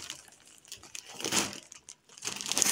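Plastic packaging on a multi-roll pack of three-ply toilet paper crinkles and rustles close by in bursts, with a brief pause before a final louder crackle.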